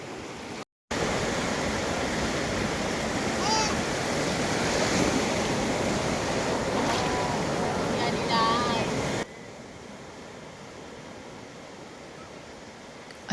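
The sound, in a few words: sea waves on Udupi beach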